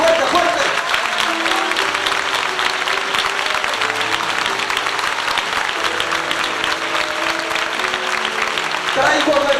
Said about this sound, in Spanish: dale su ofrenda de aplauso en esa hora al Señor